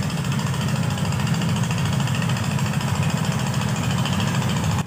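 A trawler boat engine chugs steadily and loudly while carrying harvested paddy along a river in rural Bangladesh, a constant low mechanical drone with no pauses.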